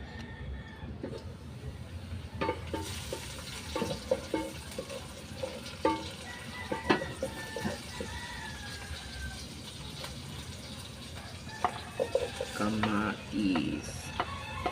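Food browning in a pan sizzles faintly and steadily, broken by stirring scrapes and occasional clinks of a utensil, heard close but low in level.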